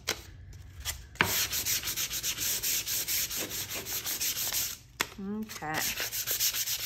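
Fine-grit sandpaper rubbing over rough wood on a rustic vintage sled, a steady scratchy rasp of repeated strokes close by, broken by a short pause and a brief spoken word.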